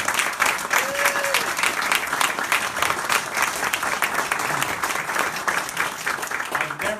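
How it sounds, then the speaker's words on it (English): Audience applause from a seated crowd after a speaker's introduction, dense continuous clapping throughout at close range, fairly loud, with no voices standing out. "Give him a big round of applause."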